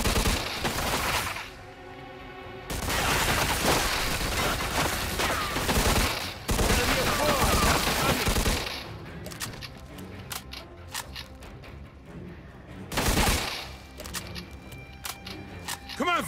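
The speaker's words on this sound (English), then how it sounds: "Watch out! They shoot from up top!" A firefight in the video game Mafia II Definitive Edition: dense bursts of gunfire and loud shots, with quieter stretches of scattered single shots and clatter. Voices shout over the shooting at times.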